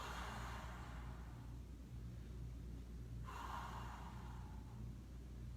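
A person draws in a breath and then exhales slowly during an upper-body stretch in a fitness session. Two soft, airy breaths, each lasting over a second, sit close and quiet against a steady low background hum.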